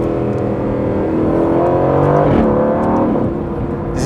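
A 2020 Aston Martin Vantage engine hums steadily from inside the moving car, the note rising and shifting as it accelerates, loud and continuous with no talk.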